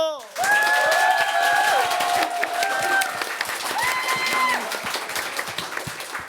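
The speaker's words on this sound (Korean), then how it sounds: "여러분 큰 박수 한번 주세요." An audience at a book concert breaks into loud, sustained applause, with clapping and a few cheers filling the room before slowly tapering off.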